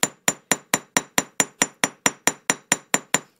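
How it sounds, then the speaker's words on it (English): A chasing hammer's round edge strikes a small metal heart for a ring, giving about fourteen sharp, evenly spaced metallic taps that ring briefly, close and loud, with no talk. "I'm going to use the chasing hammer round edge again."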